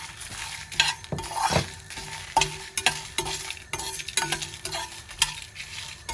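Red chillies and curry leaves dry roasting for sambar masala, a steady stirring scrape and faint sizzle with repeated clinks of a spoon against the pan, close and moderately loud, no talking.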